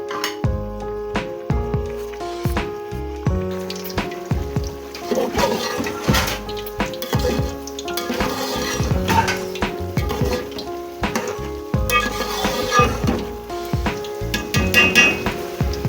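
Water bubbling and boiling in a pot of aloo tahari, potato rice, with steady gurgling pops and occasional clinks, continuous and fairly close with no talk.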